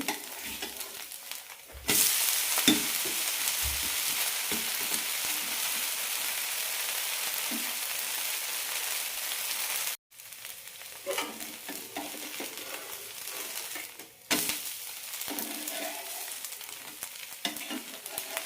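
A semolina rava dosa sizzles in a pan on medium flame as its edges crisp, a loud, steady hiss that breaks off briefly and resumes a couple of times.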